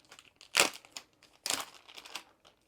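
A resealable plastic kit bag's glue strip being peeled back, heard as close crinkling plastic with two louder rustling bursts and smaller crackles between them, with no talking.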